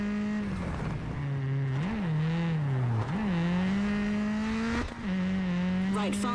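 A Volkswagen Polo rally car in the game WRC 10, on a Rally Sweden stage: a loud, continuous engine note that rises and dips with gear shifts and lifts, with brief tire and gravel noises and no talk.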